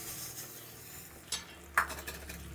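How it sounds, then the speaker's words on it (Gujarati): Sesame seeds are stirred into hot jaggery syrup for chikki, a low simmering hiss broken by a couple of short scrapes and a sharp clink of a spoon against the pan, close and without talk. "તલને આપણે ખૂબ જ હલાવી લેશું."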